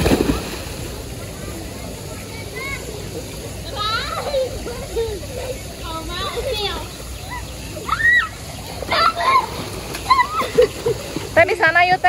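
Child swimming in a pool, with scattered water splashes and sloshing at close range amid echoing background chatter and children's voices, splashes growing busier toward the end.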